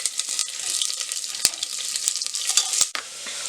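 Cumin seeds and onion sizzle in hot oil for a chicken pulao, a loud crackling hiss broken by a few sharp stirring clacks, with no voices.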